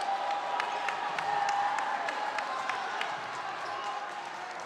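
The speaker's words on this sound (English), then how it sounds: "The folks in black and gold clapping their hands in the Dragon's Den" Fans clapping their hands in a high school boys basketball gym, a fairly soft, steady patter of crowd applause with scattered sharper claps and general murmur under it.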